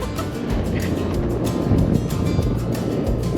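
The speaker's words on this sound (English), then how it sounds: "And it's windy!" Strong gusting wind at a mountain viewpoint buffets the microphone in a continuous, loud rumbling roar.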